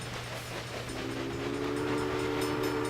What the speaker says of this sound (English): that train should just breeze on through